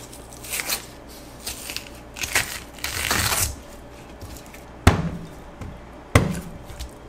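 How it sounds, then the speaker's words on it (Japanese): While a filefish is being cleaned and skinned, its swim bladder bursts with a sharp, sudden pop, one of several brief cracking and chopping knocks on a quiet background. "今のバンはね、空気袋が割れた音ですね。"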